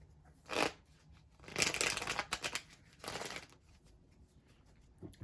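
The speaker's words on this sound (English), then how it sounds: "You heard me shuffle." Tarot cards shuffled in three rustling bursts separated by quiet pauses, close and fairly soft with no voice.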